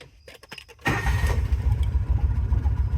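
A 1995 Kawasaki Mule KAF620A utility vehicle being started: a few short starter cranks, then the engine catches and settles into a steady, close, low rumbling idle.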